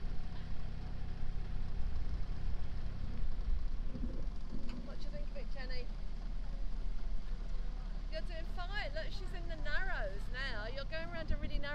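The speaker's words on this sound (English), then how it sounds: "We've been offered the chance to drive the boat, the two of us," A canal narrowboat's engine runs steadily on the Caldon Canal, a continuous low rumble under the whole stretch, with people talking over it in the second half.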